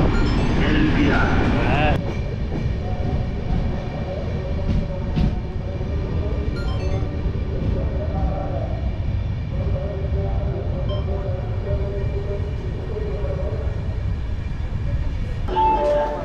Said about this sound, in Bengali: বিফোর টাইমে কিন্তু আমাদের ট্রেন ঢুকে গেছে।